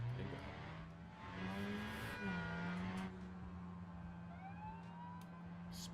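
A 4-cylinder car engine revs in a racing video game, a sustained drone that climbs and dips in pitch, with a police siren wailing over it.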